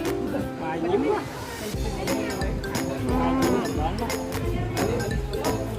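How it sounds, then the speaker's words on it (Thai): Water buffalo lowing among a herd at Khao Kheow Open Zoo, a steady close-up moo under nearly continuous voices of nearby visitors chatting with a child. "มีควายเผือกด้วยค่ะ"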